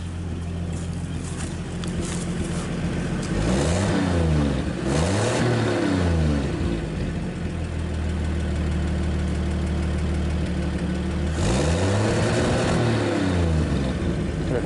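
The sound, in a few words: old truck engine revving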